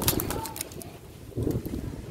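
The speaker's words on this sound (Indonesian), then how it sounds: "ini namanya burung nuri pelangi" Harsh, scratchy rainbow lorikeet calls burst out in short clusters, close by and fairly loud, with a pause between bursts.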